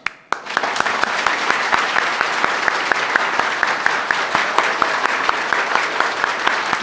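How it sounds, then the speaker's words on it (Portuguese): A seated audience at a motivational talk on happiness breaks into sustained applause, dense clapping that starts abruptly and continues at a steady level with a few sharper claps standing out. "Então, vamos nos aplaudir,"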